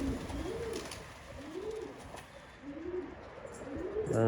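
Pigeons, among them homing pigeons, give a series of about four soft rolling coos at a steady, unhurried pace, close by over faint background noise, with no talking.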